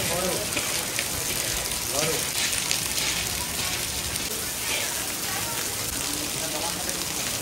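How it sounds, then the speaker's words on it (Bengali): Heavy rain pours down in Vrindavan, making a dense, steady roar of drops hitting surfaces close by that holds at an even loudness throughout, with faint voices mixed underneath. "ভয়ানক বৃষ্টি হচ্ছে বৃন্দাবনে।"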